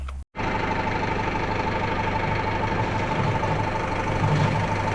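Tractor engine idling near an old barn during roof repair work, a steady low rumble with a constant hum, starting after a brief cut.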